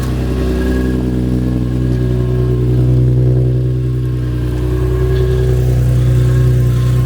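A drift car engine revs loud and close on a stand with both rear wheels spinning, a steady droning roar with rising and falling pitch swells.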